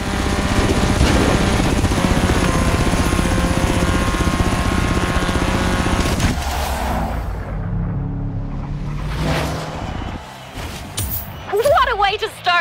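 A helicopter flies in the video game Forza Horizon 3, its steady rotor and engine drone loud and continuous at first, then thinning out as other game sounds and brief voices take over.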